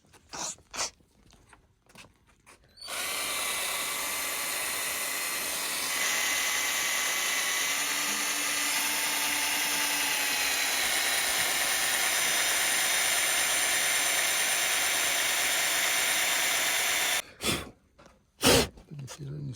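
A power drill bores into a car's rear bumper, a steady high motor whine running for about fourteen seconds and rising in pitch partway through, framed by a few sharp clicks and handling noises before and after.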